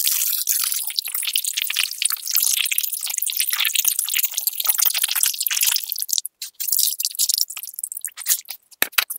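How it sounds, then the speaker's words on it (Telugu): Raw fish scrubbed by hand in water with coarse rock salt, giving steady close-up wet sloshing, dripping and gritty crunching that thins into sparse splashes near the end, with no talk. "చేపలను ఇట్లా బాగా నీట్గా 1-4 సార్లు శుభ్రంగా కడుక్కొని కల్లుప్పు వేసుకొని బాగా నీట్గా కడుక్కోవాలి"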